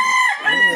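A rooster crows loudly and close by, a single sustained call with a bright, tonal, slightly wavering pitch.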